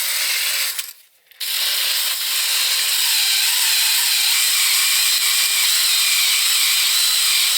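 A power drill with a 25/64 bit boring a bracket hole for Ford 8.8 axle brake line clamps, a loud continuous high whir with one brief pause near the start.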